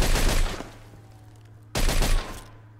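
Two loud bursts of gunfire ring out in the Mafia II crime game, each a rapid volley that trails off into an echoing tail, with a low hum between them and no voices.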